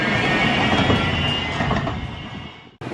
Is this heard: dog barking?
no